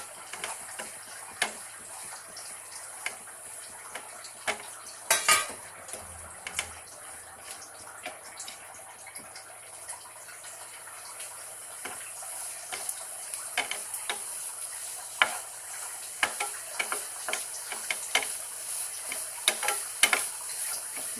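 Green chillies and carrot are stirred in a pan with onions, and a spatula ticks and scrapes in quick irregular strokes over a faint steady sizzle, close by, for about twenty seconds.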